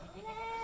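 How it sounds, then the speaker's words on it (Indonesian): A healthy goat with a thick, curly, unkempt coat gives one drawn-out, wavering bleat, close and fairly loud, rising slightly in strength toward the end. "Kambing ini kambing sehat"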